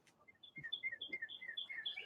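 Chickens in a coop give a steady run of short, high chirps and peeping calls close by, overlapping almost continuously with faint low clucks underneath.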